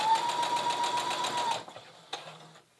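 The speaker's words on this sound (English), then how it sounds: "And then I'm just carefully stitching it on." A sewing machine stitches appliqué onto fabric in a steady, close, loud whir for about a second and a half, then stops, leaving a couple of faint clicks from the machine.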